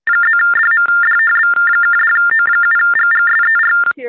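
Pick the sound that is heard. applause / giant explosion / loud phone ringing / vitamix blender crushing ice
loud phone ringing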